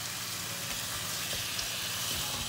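Beef and onions fry together in a pan, giving a constant, even sizzle of hot fat with soft crackles and no talking.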